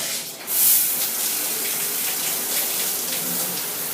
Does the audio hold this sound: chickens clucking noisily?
no